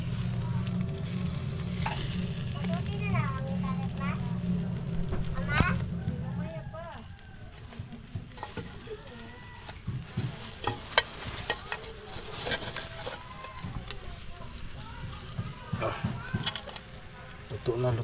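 Freshly caught black spotted fish grilling over an outdoor fire, a steady sizzle and crackle running under people talking throughout, louder in the first few seconds and settling into a softer background hiss.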